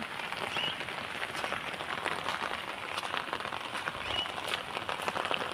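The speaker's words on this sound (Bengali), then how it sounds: "আর তো বৃষ্টি হচ্ছেই।" Steady rain falling on surfaces outdoors after a night-long downpour, a dense continuous patter of drops at even moderate loudness with no voices.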